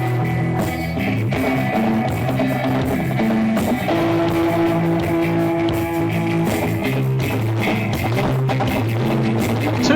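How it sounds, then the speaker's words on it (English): A band warming up on stage at a live outdoor music festival, dense sustained instruments and drums heard from the crowd, loud and continuous with shifting tones throughout. "One of the bands warming up here."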